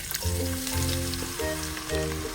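Chopped onion hits hot oil with bay leaves and dried red chillies, crackling and sizzling loudly in a close pan with intermittent stirring.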